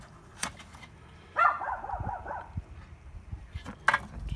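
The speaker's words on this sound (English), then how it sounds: "Shut up, dog." Dog barking near a charcoal barbecue being lit for smoking pork ribs, a few faint scattered barks and whimpery yelps at moderate distance amid quiet background noise.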